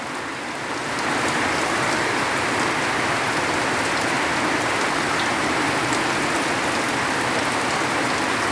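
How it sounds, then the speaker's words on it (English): Heavy rainfall pouring steadily onto surfaces, a dense, continuous hiss that swells after the first second and stays loud and even throughout, with no talk. "This is the sound of a pure rain fall."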